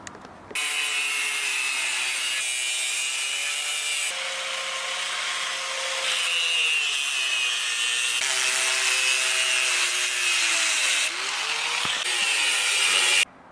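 A power saw cuts steadily through a weld on a bicycle frame for a double-decker tall bike build, a loud continuous grinding whine whose pitch drifts as it bites, with a brief pause near the end.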